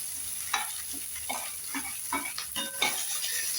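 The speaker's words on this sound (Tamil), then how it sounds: "வெங்காயம் போட்டுருவோம் பச்சை மிளகாய் போட்டுருவோம்" Onions and green chillies sautéing in a pan with a bay leaf for a mushroom gravy: a soft, close sizzle broken by repeated stirring scrapes and light utensil clicks, with no voices.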